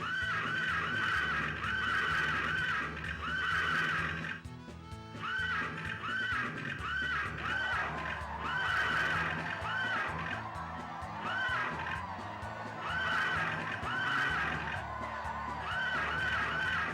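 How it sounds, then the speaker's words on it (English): Loud, repeated horse whinnies ring out in bursts over a busy Harvest Moon: Back to Nature game soundscape, with a short lull partway through before the neighing resumes. "these horse sounds were actually so loud"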